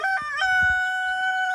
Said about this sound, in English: So that's a rooster there.